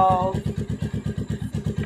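Motorcycle engine started with a single press of a remote alarm fitted to a Honda-style bike: a short starter whine, then a quick steady idle chug close by.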